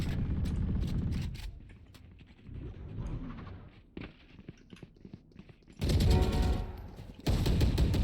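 Rapid gunfire bursts in a Valorant-style tactical shooter game, loud dense volleys spraying at the player, with quieter footstep-like movement between and two heavy bursts near the end.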